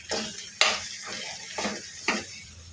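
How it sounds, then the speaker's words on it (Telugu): Amaranth stems frying in a pan, stirred with a utensil: a few sharp scraping clatters of metal against the pan over a soft continuous sizzle, close and fairly quiet. "అవి బాగా వేగిన తర్వాత తోటకూర కాడలు వేసుకోవాలి. ఇవన్నీ బాగా కలుపుకోవాలి."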